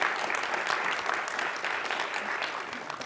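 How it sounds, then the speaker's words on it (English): An audience at a city council meeting in Thousand Oaks breaks into sustained applause, a continuous, full clatter of many hands that holds level and eases slightly toward the end. "yeah, another round of applause."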